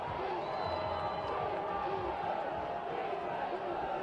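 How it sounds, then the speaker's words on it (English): A homecoming crowd at a Delta State football game, a steady wash of distant cheering and murmur that holds at an even level without sharp peaks. "this Delta State crowd, which has been kind of sleepy all day on their homecoming, comes alive just a little bit"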